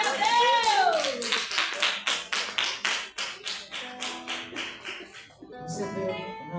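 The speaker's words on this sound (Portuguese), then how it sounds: "Bate palmas e glória a Deus!" Congregation at a Brazilian worship service claps in a steady rhythmic beat, sharp hand claps repeating roughly every third of a second, with a voice singing or calling over the start and a brief pause near the end.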